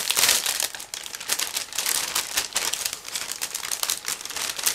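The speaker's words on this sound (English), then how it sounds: "I have to open this plastic bag." Continuous crinkling and crackling of a plastic bag of model kit parts being handled and opened, close up, with dense irregular rustles throughout and no voices.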